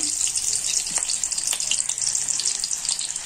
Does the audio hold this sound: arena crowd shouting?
no